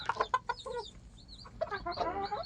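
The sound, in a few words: chicken clucking, said to laugh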